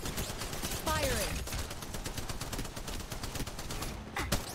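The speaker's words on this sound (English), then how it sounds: "Shots coming!" Rapid gunfire in Apex Legends, dense bursts of automatic shots rattling almost continuously with a few louder cracks, alongside brief game voice sounds.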